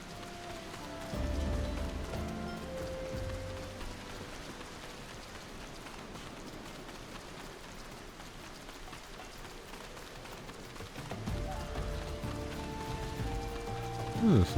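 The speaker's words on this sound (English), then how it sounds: "cool rain effect. I like that." Rainfall in Final Fantasy XIV, a dense, steady patter on the ground that swells a little louder toward the start and end, with a low rumble briefly underneath.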